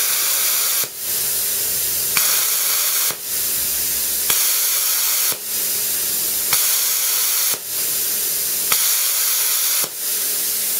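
A plasma cutting torch fires its pilot arc in repeated bursts, a loud, close, harsh hiss broken by short pauses about every second, with no voices.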